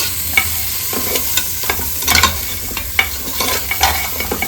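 Salt being stirred into goat leg paya soup in a pot: repeated scraping, clinking strokes of a spoon at an irregular pace, with a steady low sizzle or simmer underneath and no talking.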